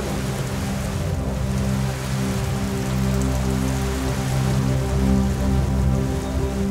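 Heavy, steady rain pours onto an open water surface outdoors, a dense continuous patter with low rumbling undertones and no voices throughout.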